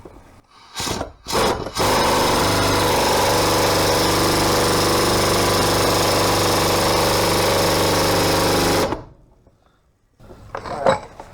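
Pneumatic impact gun hammering a bolt tight during a Chevrolet S10 clutch job, a loud continuous rattling burst of about seven seconds after two short taps, then stopping.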